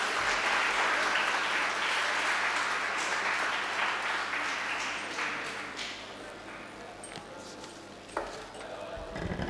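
An audience at a Tamil community event bursts into loud, sustained applause, steady clapping that gradually thins and fades away.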